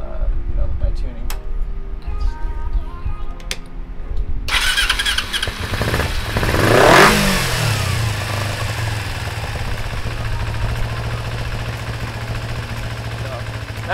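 A carbureted Kawasaki Ninja 250 motorcycle engine fires up, revs briefly to a loud peak and drops back, then settles into a steady, even idle hum close by.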